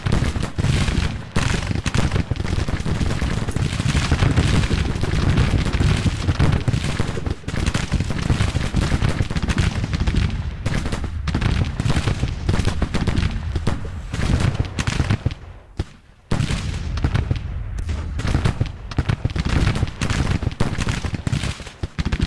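Civil War musketry and cannon fire rage in the Grand Tactician strategy game, dense continuous volleys and crackling gunfire near and loud, with a brief lull before the firing resumes in full.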